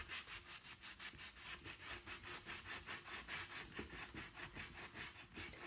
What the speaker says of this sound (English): that's where I first tried sanding